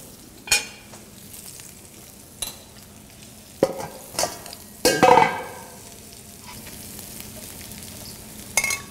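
Cooked quinoa is scooped from a pot into a large bowl: a series of scraping and knocking spoon strikes against metal, irregular and close, over a faint background hiss; no speech.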